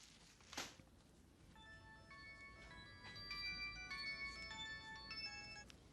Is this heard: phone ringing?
yes